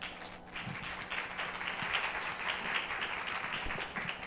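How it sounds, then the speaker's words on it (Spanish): A conference audience at a women's summit applauds to welcome a guest onstage, steady moderate clapping from a crowd in a hall, sustained for several seconds. "recibamos a Andrea con un aplauso"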